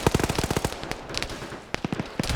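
A 7.62 minigun turret fires in a video game, rapid bursts of loud, dense automatic gunfire with a short pause, then further quick shots, no talking.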